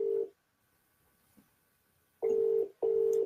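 Outgoing telephone call tones: a loud electronic beep at the start, then after a quiet gap two longer steady beeps in close succession, clear and alone with no talking.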